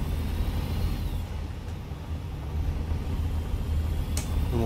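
Truck engine in American Truck Simulator, hauling a horse trailer, gives a continuous low rumble that shifts through the gears, with a brief hiss near the end and no talking.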